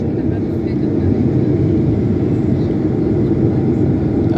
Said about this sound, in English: right now the flaps are deploying into a position for landing, which means that I might have to wait till, and also the landing gear is being dropped